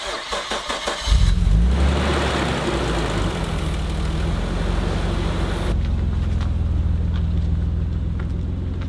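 An old car's engine cranks with rapid starter chugs, catches about a second in and roars loudly, then settles into a steady, rough idle close by.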